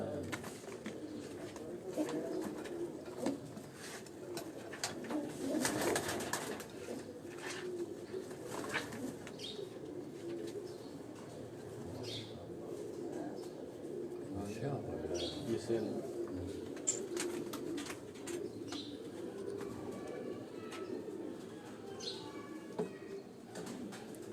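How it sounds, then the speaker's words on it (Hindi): Pigeons cooing at a rooftop pigeon loft on a farmhouse in Sialkot, with soft, continuous coos, some chirps and a brief burst of wing flapping, heard under steady talking. "ਇਹ ਜੋ ਡੱਬ ਵਾਲਾ ਕਬੂਤਰ ਤੁਹਾਨੂੰ ਦਿਖਾ ਰਹੇ ਹਾਂ ਜੀ"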